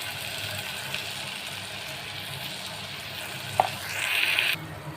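Spice masala stirred into dry mutton curry with garlic frying in a pan: a steady, close sizzle with a few scraping stir strokes and a brief rise in hiss near the end.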